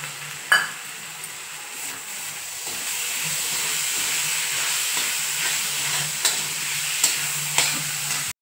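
Moong dal and green chillies sauté in a hot pan for a besan kachori filling, a steady close sizzle broken by sharp scraping stirs of a spoon against the metal.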